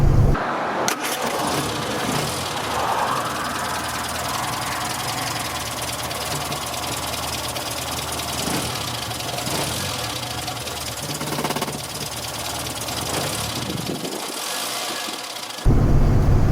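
A Morris Minor engine cranks and starts after an oil change, then runs loud and rough with a knocking beat close by before cutting off near the end.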